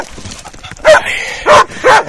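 Hunting dogs, including a young podenca, bark out on a partridge hunt: three loud, close barks in quick succession over faint background noise.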